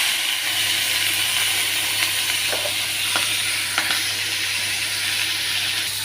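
Food sizzling in a hot pan with green chilli and coriander added, a loud steady hiss close by with a few sharp clicks of a utensil scraping or stirring, no talking.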